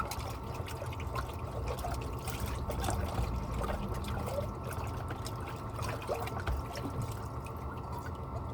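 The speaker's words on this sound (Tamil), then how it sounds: "பக்கெட் பக்கத்தில் வச்சுக்கிட்டு ஓரளவுக்கு ஒரு கை எடுத்து தண்ணீரை ஊற்றிட்டு" Water poured by hand from a bucket while cleaning dishes beside a truck in Europe, a steady low splashing trickle and dribble running throughout, close but soft, with no talking.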